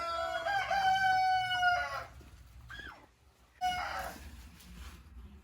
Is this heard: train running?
no